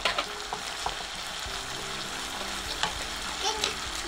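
Chili bean paste, chili powder, a block of hotpot base, oyster sauce and soy sauce stir-fried in hot oil: a close, steady sizzle and crackle with faint scraping from stirring, running unbroken throughout.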